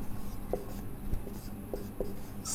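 A chemistry exam solution being written out by hand, giving soft, steady scratching strokes with a few faint taps, close by and alone in a quiet room.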